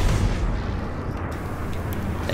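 Plasma cannon fire from a spacecraft in the space combat game Strike Suit Zero, a dense, loud, continuous rumbling barrage with booming bursts that holds steady throughout.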